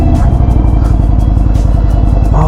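A 2025 Indian Springfield Dark Horse motorcycle rumbles steadily while being ridden, its loud, deep engine note pulsing with a regular low beat throughout.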